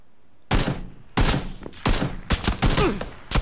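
Gunfire in the battle royale game PUBG: several loud, close bursts of shots in rapid succession with short gaps between them, no talk.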